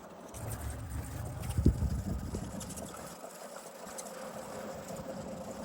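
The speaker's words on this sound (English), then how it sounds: "It's only about a 1-minute golf cart ride, and the ride definitely does not get old." Small golf cart motor humming steadily through a short one-minute ride on a little Florida island, a low continuous drone with a brief louder knock partway through and faint outdoor background.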